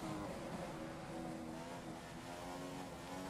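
A Formula One race car engine in the F1 2015 video game, racing the Chinese Grand Prix, holds a steady high-pitched droning whine with layered harmonics, continuous and even throughout, with no talk.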